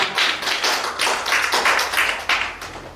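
Audience applause at a national poetry recitation contest, a steady wash of many hands clapping with slight swells, fairly close and continuous for the whole stretch, with no voices over it.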